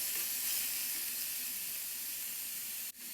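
Chopped tomatoes cook in a pan for spicy masala pasta, giving a soft, steady sizzling hiss that cuts out abruptly near the end.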